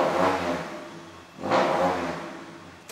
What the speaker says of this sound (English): So if you watch this as I rev it,